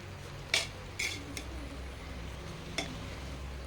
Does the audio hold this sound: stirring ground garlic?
yes